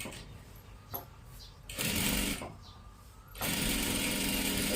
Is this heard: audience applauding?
no